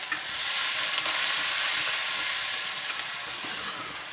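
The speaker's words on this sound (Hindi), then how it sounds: "अब हम इसमें डालेंगे अदरक और मिर्ची का पेस्ट" Ginger and chilli paste fries in a pan with a close, steady hiss and crackle and light stirring, with no voices over it.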